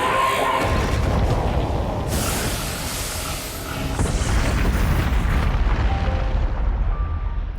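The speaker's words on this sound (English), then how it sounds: "There always has to be a nuclear explosion when they die." A large defeated enemy blows up in the video game Zelda: Tears of the Kingdom, a sustained roaring boom with a rumbling low end and hiss that swells again midway before tapering off.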